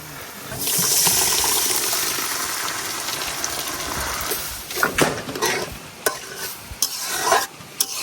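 Boiled lentils tipped into a hot pan of frying ingredients for an egg and lentil curry: a wet pour and hiss, then a steady sizzle broken by a few sharp scraping stirs near the end.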